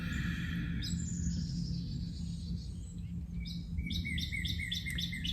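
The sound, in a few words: birds singing outside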